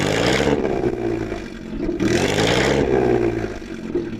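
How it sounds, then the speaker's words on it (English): Vintage Bentley Blower car engine revved in repeated bursts, three loud roaring blips separated by brief dips as the throttle is released, close by and with no voices. "And finally, Mike, rev up your blower."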